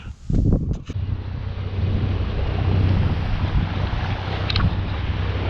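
A sailboat's engine running as it leaves an anchorage: a steady, loud low drone throughout, mixed with wind buffeting the microphone and a few brief knocks at the start.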